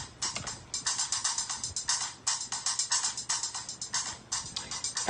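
A drum beat played back from music production software: crisp, bright hi-hat-like hits in a fast, steady rhythm with short pauses between phrases, moderately quiet and with no voices.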